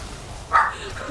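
A single short bark from a dog indoors, fairly close and mid-loud, with quiet room noise before and after.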